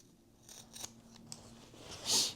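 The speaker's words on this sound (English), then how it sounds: "we're also going to clip right up to the corners here, just so that they're nice and pointy when we turn them the right way" Scissors snipping the corners of a sewn fabric seam on an Easter basket project, giving a few soft close cuts followed by one sharper snip near the end.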